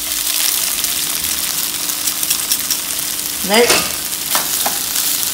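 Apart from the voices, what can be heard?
rice frying and being stirred in a pot for egg fried rice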